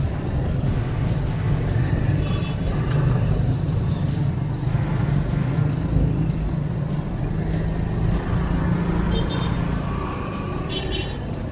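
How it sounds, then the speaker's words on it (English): Heavy traffic on Dien Bien Phu Street, a busy city street in Vietnam crowded with motorcycles, cars and trucks, gives a constant low engine rumble and road hum that holds steady the whole time with no talking over it. "So this is Dien Bien Phu Street, one of the busiest streets out of the city."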